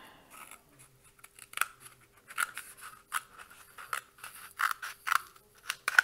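Scissors cut through a cardboard toilet paper roll, giving quiet, irregular snips and crunches that grow closer together and slightly louder toward the end.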